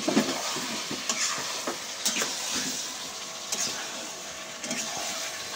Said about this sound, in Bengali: এবারে একটু নেড়ে চেড়ে নিতে হবে।